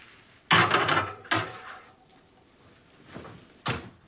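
A sheet pan holding a tart shell slides into an oven heated to 350 degrees: a loud metallic scrape and clatter, a second knock, then softer bumps and the oven door thudding shut, close by and without voices.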